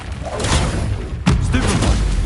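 Incendio fire spell cast in Hogwarts Legacy during a duel, a sharp whooshing burst with a booming impact near the middle, amid ongoing combat noise.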